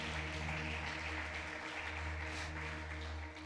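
A church congregation applauds during a Spanish-language service, a steady dense wash of clapping holding for several seconds over a low hum in the hall.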